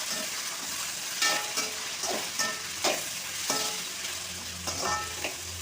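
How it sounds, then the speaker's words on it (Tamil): Eggplant sautés in oil for a poriyal, a steady bright sizzle near the pan with regular spatula scrapes and stirs every second or so, unaccompanied by talk. "கத்திரிக்காயை போட்டுக்கிறோம் எண்ணெயிலே நல்லா வதங்கட்டும்"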